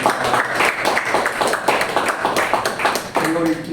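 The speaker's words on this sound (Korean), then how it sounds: "우리 환영의 박수" Church congregation clapping in welcome during a Sunday worship service, a dense steady patter of many hands filling the room, with voices mixed in throughout.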